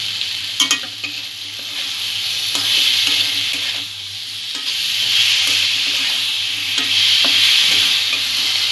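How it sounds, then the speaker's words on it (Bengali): Raw mango pieces with sugar are stirred in a pan for chutney, a spoon scraping and rubbing in irregular strokes over a soft continuous sizzle, close and without talk. "চিনি দিয়ে একটু আমটা নাড়াচাড়া করে নেব।"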